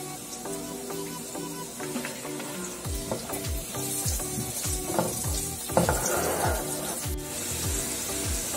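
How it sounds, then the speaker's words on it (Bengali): Potatoes frying in ghee in a pan for a vegetable flattened-rice pulao, giving a steady close sizzle with repeated scraping stirs, no talking. "এর মধ্যে আমরা প্রথমে আলুটা দিয়ে এটাকে ভেজে নেব"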